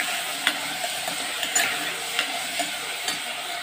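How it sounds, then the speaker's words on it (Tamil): Tomatoes sautéing in a pan for fish curry give a steady close sizzle, broken by regular scraping taps of a stirring spoon, with no voices. "தக்காளியை இப்போ நல்லா வதக்கிக்கலாம்."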